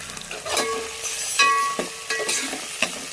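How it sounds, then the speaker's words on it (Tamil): Tomatoes stirred into a curd curry in a pan, a spoon scraping and sloshing over a steady sizzle, close and loud in several quick strokes. "கொஞ்சம் தக்காளி போட்டு நல்லா மிக்ஸ் பண்ணி வைக்கலாம்"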